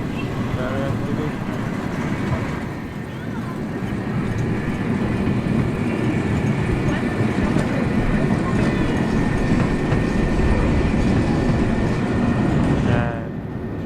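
A train runs along rails in Chiang Mai, a steady rumble holding for over ten seconds among busy street activity, with people talking nearby.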